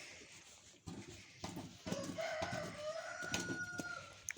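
Chickens cluck in a backyard coop while a rooster crows in a long drawn-out call, fairly close, with scattered rustling and a few soft clucks before the crow.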